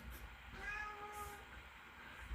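A cat gives a single faint, drawn-out meow over low background noise.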